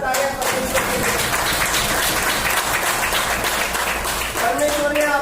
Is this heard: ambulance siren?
no